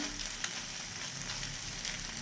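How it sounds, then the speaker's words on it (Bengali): Kakrol (spiny gourd) frying in a pan over a gas flame, a steady close sizzle with faint crackles and occasional soft stirring scrapes, continuous and unaccompanied by talk. "এরপর এটা একটু ভাজা পর্যন্ত আমি অপেক্ষা করব।"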